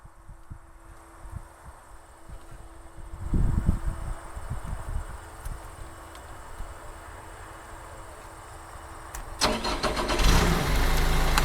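A joystick-steered work machine's engine cranks and fires faintly at first, settles into a low idle, and then swells louder near the end, with no voices.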